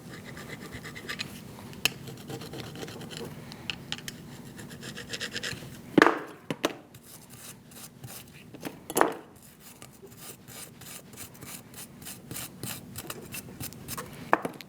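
Gunk scrubbed out of front brake parts on a 2008-2014 Mercedes-Benz C300, a close, continuous rasping scratch with rhythmic rubbing strokes and a few sharper scrapes, without speech.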